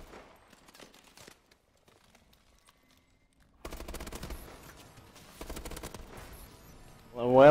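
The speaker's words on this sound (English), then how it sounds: "It shoots really fast, this gun." Rapid automatic gunfire from a fast-shooting weapon in Call of Duty: Advanced Warfare team deathmatch, arriving in dense bursts after a quiet stretch, with sporadic game effects around them.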